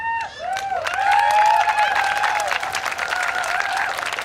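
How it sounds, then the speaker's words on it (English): A crowd at an outdoor march against racism claps and cheers loudly after a speech about missing and murdered Indigenous women, with high whoops and shouts rising over steady applause. "Just one more round of applause for Lorelei"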